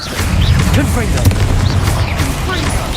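Booming Confringo blasting-spell explosions in Hogwarts Legacy, a loud burst with rumbling aftermath while a voice speaks.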